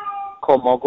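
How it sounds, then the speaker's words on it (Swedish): A house cat meows loudly and close by, first with a drawn-out tonal call and then with a quick string of shorter meows, while someone talks in Swedish at the same time. "Det var min katt som lät om någon undrar."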